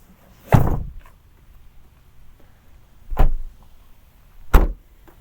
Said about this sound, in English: You could hear all those shuts and clunks and thunks.